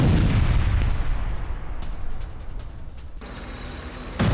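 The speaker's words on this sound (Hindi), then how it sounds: "रूसी सैन्य वाहन में जबरदस्त धमाका हुआ है।" A Russian BMP-3 military vehicle struck by a drone explodes in Kursk, giving a loud, sustained rumbling blast with heavy low roar that fades slightly, then a renewed burst near the end; no voices.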